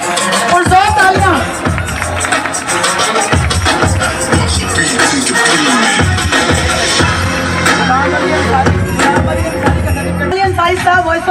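An audience at a Seerat-un-Nabi welfare organization event in Arifwala, Pakistan, claps in a sustained burst of applause, mixed with crowd murmur and someone talking loudly over it.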